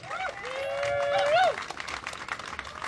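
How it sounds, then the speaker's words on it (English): Crowd at a street march against police brutality claps briefly, while a drawn-out vocal cheer or whoop rises over the clatter and then fades as the applause thins. "Can we please give her a round of applause?"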